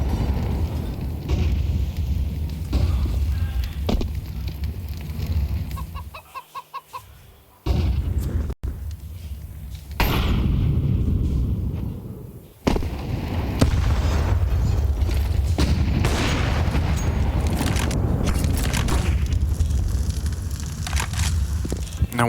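Grenades go off in a Counter-Strike match at IEM Cologne 2024 in a series of loud booming blasts with crunching debris, heard close under a steady game soundscape.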